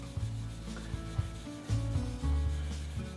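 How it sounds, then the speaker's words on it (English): Fine steel wool dipped in paint thinner is rubbed lightly over the wooden surface of an antique marking gauge, giving close, continuous scrubbing strokes with short pauses between passes. "I go over the surface of the marking gauge lightly"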